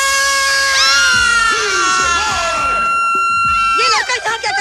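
Several girls scream together in a girls' hostel in a Hindi film: loud, overlapping, high-pitched shrieks that continue for several seconds and then break off into shorter cries.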